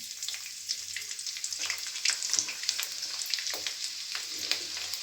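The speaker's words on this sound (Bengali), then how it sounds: "তেলের মধ্যে দিয়ে দিলাম রসুন কুচি," Chopped garlic sizzles in hot mustard oil in a kadai, a steady, close crackling fry with bright popping spatters throughout and no talking.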